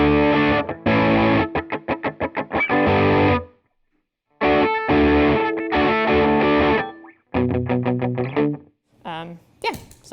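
Electric guitar on a humbucker pickup through a versatile distortion pedal plays loud, saturated chords in rhythmic chugging bursts and sustained strums, with short silent gaps between phrases and a final squealing note.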